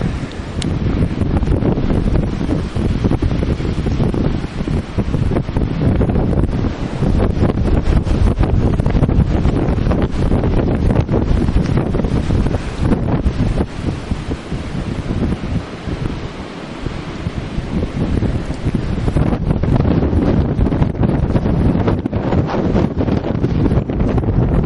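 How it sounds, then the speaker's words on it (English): Relentless blizzard wind in Bay City, Michigan, roaring and buffeting the microphone in a loud, continuous rush with gusty swells and no pauses. "The first blizzard that I've ever experienced in Michigan."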